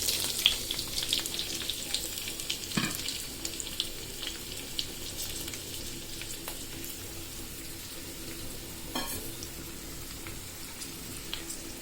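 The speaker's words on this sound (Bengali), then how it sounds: "এবার কেটে রাখা পেঁয়াজ, রসুন, কাঁচামরিচ দিয়ে দিচ্ছি।" Chopped onion, garlic and green chilies fry in hot oil in a kadai, giving a soft continuous sizzle with occasional light clinks and a brief scrape, heard alone without talk.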